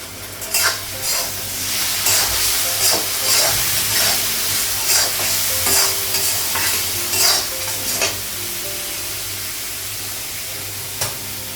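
Ginger and garlic paste frying and being stirred in a pan, a steady loud sizzle and hiss with repeated scraping strokes of the spoon at a fairly regular rhythm, close by and with no talk.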